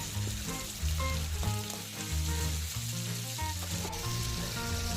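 Kuchia eel pieces fry in hot oil in a pan over a wood fire, giving a dense, continuous sizzle with some stirring and tonal background music.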